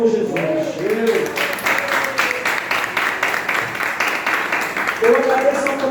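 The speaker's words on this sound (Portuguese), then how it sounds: "quem acredita nisso, aplauda ao Senhor Jesus" A church congregation claps in a steady, rhythmic beat after a preacher's call, the applause sustained for several seconds, with a voice speaking just before it starts and again as it ends.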